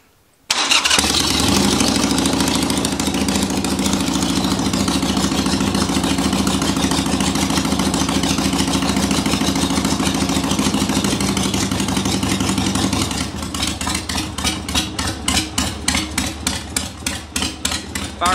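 A custom chopper motorcycle, cold and unrun since the day before, starts on choke with a loud, sudden catch and idles with a steady throbbing rumble, then settles into a loping, uneven idle toward the end; no speech.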